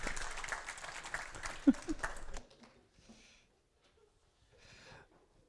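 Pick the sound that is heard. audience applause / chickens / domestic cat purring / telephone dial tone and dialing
audience applause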